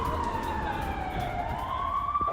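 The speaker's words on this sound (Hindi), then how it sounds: "अलर्ट के बाद तेल अवीव में सायरन लगातार बज रहे हैं" An air raid siren wails across Tel Aviv, its long rising and falling tone sustained and loud over a constant background rumble, with no speech.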